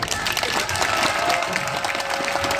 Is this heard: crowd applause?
yes